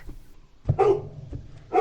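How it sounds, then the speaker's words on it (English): Dog barking in the video game The Cat Lady: one sharp bark followed by a louder, longer yelping bark, with a third bark starting at the end, close and fairly loud over low background sound. "This dog is making quite a racket."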